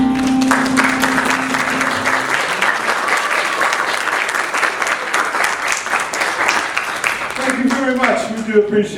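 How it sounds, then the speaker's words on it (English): An audience at a library stage claps for a small jazz band after a song, a dense, steady wash of applause that carries on loudly before voices and a few tones come in near the end. "We do appreciate your kind applause"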